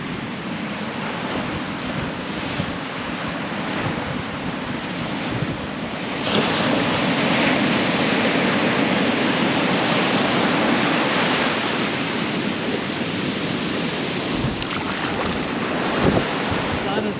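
Strong wind and rolling surf on a beach, with blowing sand. There is a steady roar with heavy wind buffeting on the microphone that grows louder partway through.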